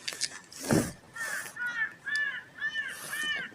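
Several harsh crow caws repeat in an uneven series, fairly close and loud, with a brief louder burst of noise near the start.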